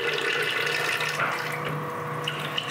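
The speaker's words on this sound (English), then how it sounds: "Let's get some water in." Water runs steadily from a tap into a pot, about 1.5 liters, a continuous rushing pour close by with no voices.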